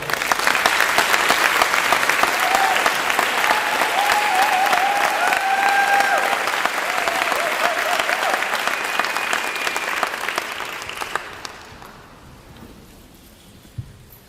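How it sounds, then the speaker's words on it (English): Sustained applause from a seated audience at a school district's state-of-the-district address, a dense even wash of clapping hands that carries loudly for about eleven seconds, then fades sharply to quiet room tone. "let us give you a round of applause"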